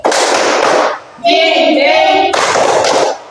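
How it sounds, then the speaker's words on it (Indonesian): Schoolchildren in a primary school classroom clap in thanks in two loud, brisk bursts of rapid hand claps, split by a short sung or chanted phrase in the middle. "Tepuk terima kasih."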